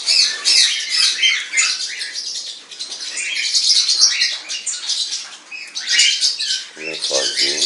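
Three blue grosbeak chicks in a breeding aviary, a dense, loud, close stream of high chirps and begging squeaks with rustling and fluttering throughout.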